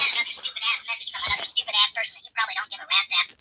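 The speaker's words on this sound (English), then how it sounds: "That's my ringtone, y'all." A phone ringtone plays, a bright, repeating melodic pattern of tones that comes through loud and steady in short bursts across the clip.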